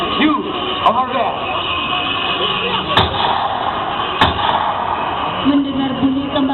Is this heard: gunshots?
yes